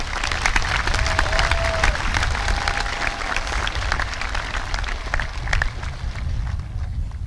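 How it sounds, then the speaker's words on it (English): A commencement crowd applauds honor students in a dense, continuous wash of clapping that holds steady and loud, with a few faint voices mixed in. "let's have a giant round of applause for all of our other honor students"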